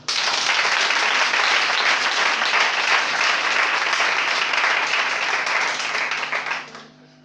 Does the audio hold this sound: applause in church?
yes